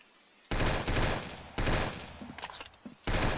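Gunfire in the Roblox shooter Arsenal, several loud rapid-fire bursts separated by short gaps, close and harsh, with a few sharper single cracks in between.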